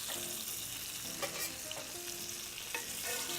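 Thin cornmeal-coated catfish pieces frying in hot oil, a steady close sizzle and crackle with a few brief stirring clinks, no voices.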